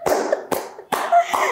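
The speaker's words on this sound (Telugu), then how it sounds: "so on this న్యూట్ slow clap for you" Four slow, deliberate hand claps ring out about half a second apart in a quiet room during a film team interview, each one sharp and close.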